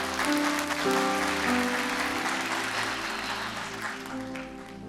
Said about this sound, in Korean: 큰 박수로 축복해 주십시오